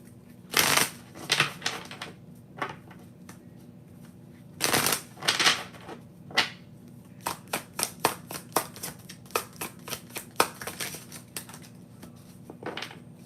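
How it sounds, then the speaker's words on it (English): A deck of tarot-style cards being shuffled and a card drawn, with bursts of riffling and a long run of quick, crisp card snaps and flicks close by, no talking. "let me pull a shadow card"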